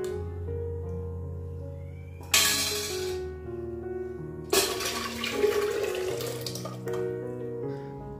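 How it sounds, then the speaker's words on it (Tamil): Water runs from a tap to rinse a bowl and refill a pressure cooker. It comes in two loud, gushing bursts with quieter clatter and dripping between them, over a steady low hum and tonal background music. "அந்த போல் அலசி கொஞ்சமாக நான் திரும்ப வந்து தண்ணி சேர்த்துருக்கேன்"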